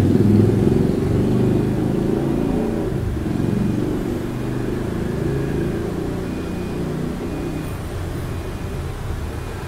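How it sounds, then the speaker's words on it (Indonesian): Motorcycle going past outside, a steady low engine drone that is loudest at the start and slowly fades as it moves away. "Bentar, ada motor lewat."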